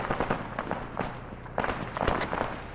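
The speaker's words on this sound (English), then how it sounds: "Lots of shots coming from our northeast." Distant gunshots in the game ARMA 3 crack in scattered single shots and short bursts, some sharper and nearer, against a low background hum.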